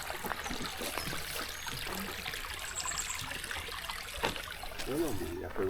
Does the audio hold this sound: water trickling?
yes